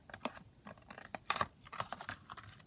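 Scissors crunch and snip through patterned paper from a 12x12 pad, a quick run of close, crisp cuts with scraping and rustling between them.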